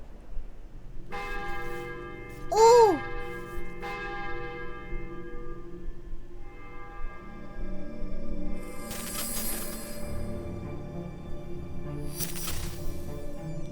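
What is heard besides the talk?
giant bell ringing in a video game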